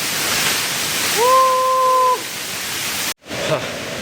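Mettuguda waterfall at Seethampeta, water falling from a height: a steady broad roaring rush of water, close and loud, with a tonal voice-like sound in the middle and a brief dropout near the end.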